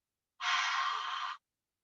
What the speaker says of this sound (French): Expire fort.